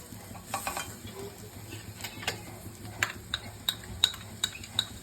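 Grated coconut and jaggery being sautéed in a pan over low heat, with a soft continuous sizzle and spatula scrapes and taps against the pan at irregular intervals, close and fairly quiet.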